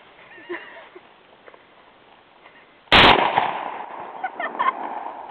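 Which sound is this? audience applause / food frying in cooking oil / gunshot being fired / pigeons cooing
gunshot being fired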